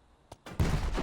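A grenade blast in the VR shooter Hard Bullet: a faint click, then a sudden loud, low booming burst that rumbles on for about half a second, heard alone.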